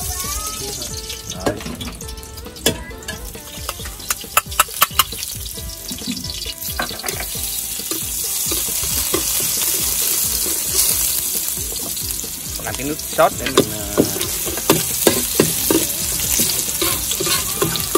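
Food frying in oil in a pan for an outdoor countryside birthday meal, with sizzling and stirring scrapes throughout and several sharp clinks of a utensil; people talk over the cooking.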